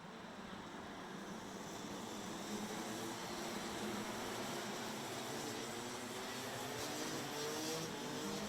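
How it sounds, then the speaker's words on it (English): DD2 racing kart engines rev on the starting grid at a 2020 final in Genk, a steady, faint and distant engine drone that holds without a break and with no voices over it. "You can hear the drivers revving their engines, getting themselves fired up and ready."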